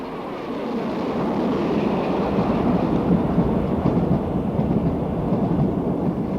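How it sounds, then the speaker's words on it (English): A GWR King class steam locomotive hauls the Bristolian express, a loud, steady rolling roar of train and carriages that continues without a break. "this view of a king on the Bristolian"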